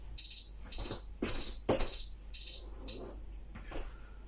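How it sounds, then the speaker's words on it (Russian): A kitchen timer beeps in a rapid series of high electronic chirps, repeated six times, mixed with clattering kitchen noises while making homemade cheese, fading toward the end. "Таймер сработал, это значит, первый раз надо переворачивать."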